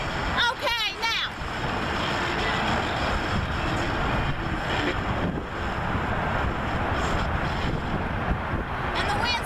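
Wind buffets a microphone outdoors, a steady broadband roar rumbling continuously throughout, with a brief burst of other sound near the start.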